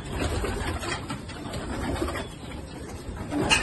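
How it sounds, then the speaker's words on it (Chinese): Pigeon cooing, including a spotted rural racing pigeon with a special leg ring, comes as soft low coos over a steady noisy background, with a slightly louder burst near the end. "是我的另外一只花鸽子"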